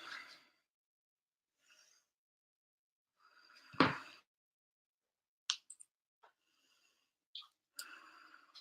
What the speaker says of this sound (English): if you guys hear me breathing